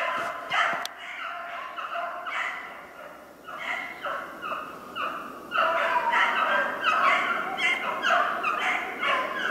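Pack of beagles chasing a snowshoe hare in winter woods, baying and barking continuously at mid distance, the chorus swelling louder toward the end.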